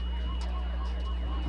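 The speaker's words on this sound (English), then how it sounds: "That's the end of halftime as you hear the little siren." A short siren marks the end of halftime at a high school Thanksgiving football game, a steady wavering tone carrying over the broad wash of an outdoor stadium crowd.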